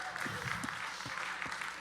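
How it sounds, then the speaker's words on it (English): An audience at a group leader lunch gathering gives moderate applause, a steady wash of clapping with some crowd murmur and a voice faintly underneath. "Everyone give her a round of applause."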